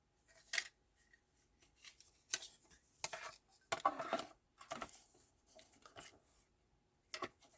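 Scissors snipping through mint macaron paper scraps while making a birthday card: several short, crisp cuts spaced irregularly, close up and quiet, with no talking.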